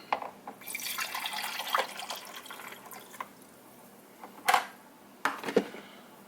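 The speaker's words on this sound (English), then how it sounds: "First we pour our water back in." Water poured into the reservoir of a Proctor Silex single-serve coffee maker, a steady splashing trickle for a few seconds followed by brief drips and clunks of handling, no talking.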